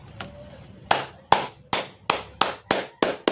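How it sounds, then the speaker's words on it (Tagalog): About seven sharp, evenly spaced claps ring out close by, slow and rhythmic, each with a short decay, after a quieter opening. "Palakpakan naman natin."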